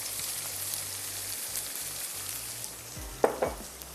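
Steady, quiet sizzling of green chilies and spices frying in a pan, with a few soft clinks of stirring near the end.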